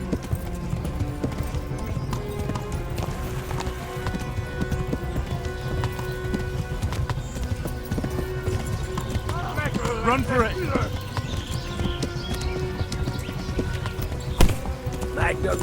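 Horse galloping with rapid clip-clop hoofbeats and a brief whinny in the medieval video game Kingdom Come: Deliverance, mixed with game noise and shouting voices, steady and loud throughout.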